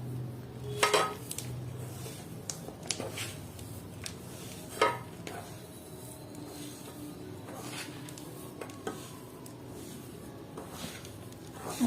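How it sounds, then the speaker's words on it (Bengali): Dry fruit laddu mixtures stirred together in a bowl, with soft scraping and stirring plus a few sharp clinks of utensil against the dish, steady and close throughout. "এবার দুটো একসাথে মিক্স করে নেব, কোনো চিনির প্রয়োজন হবে না।"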